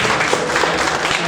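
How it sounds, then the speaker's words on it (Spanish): Congregation applause in a church, a brief dense burst of many hands clapping together at full level. "Den un aplauso a Cristo."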